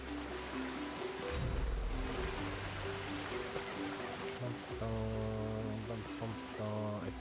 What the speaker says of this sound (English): Oh, look at the nice waterfall.